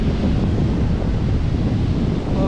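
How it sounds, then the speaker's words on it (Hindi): Surf rolls in steadily at Arambol Beach in North Goa, ocean waves washing continuously under strong wind buffeting the microphone, loud and unbroken with no voices. "और वेव्स काफ़ी अच्छी आ रही है आज, अगर काफ़ी सुंदर हवा चली हुई है।"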